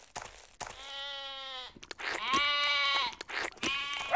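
Sheep bleat loudly and close by, several long wavering calls following one another with brief gaps between them.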